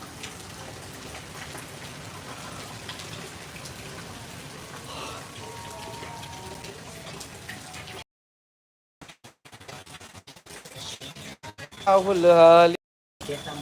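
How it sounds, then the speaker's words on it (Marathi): A steady, dense monsoon downpour in Hingoli hisses for several seconds, then briefly drops out before a few louder, scattered sounds follow. "आमच्या हिंगोलीला सध्या मुसळधार पाऊस चालू आहे"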